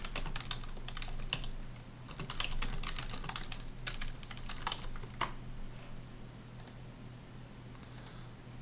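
Rapid, irregular clicking of computer keyboard keys while a paragraph is typed into a file, close and steady, with brief pauses between bursts and no talking.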